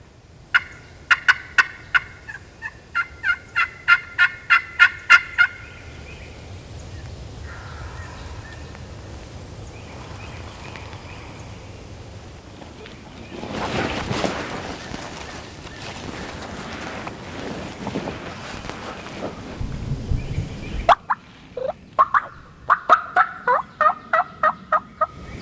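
Wild turkeys in a Mississippi public-land creek bottom, several bursts of rapid rattling gobbles at the start and end, moderately distant, with a stretch of wind and rustling in between.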